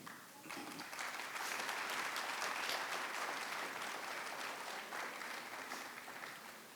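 An audience at a community Ugadi celebration in Canada applauds an award announcement, a dense, sustained round of clapping from a large crowd holding steady for several seconds.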